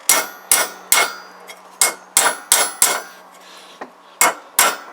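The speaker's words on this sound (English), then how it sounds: "someone whacking a bit of fucking metal with an hammer" Sharp metallic hammer blows ring out on a Kawasaki GPZ500S motorcycle mainstand during refurbishment, roughly a dozen loud, close strikes in an uneven rhythm, each with a short ringing decay.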